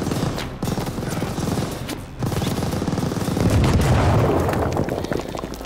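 Dense, continuous machine gun fire and explosions from the video game Call of Duty Vanguard, a loud sustained barrage of shots with booming blasts layered over it.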